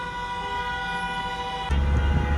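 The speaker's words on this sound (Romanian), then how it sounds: "Claxonează săracii oameni de teroare." Car horns honk at the Serbia–Croatia border crossing, a long sustained horn tone over idling traffic, then it cuts off and a rumbling vehicle noise takes over.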